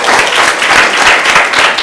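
Audience applause in a studio during a televised talk show in Côte d'Ivoire, a loud, dense wash of clapping from a crowd that holds steady for under two seconds.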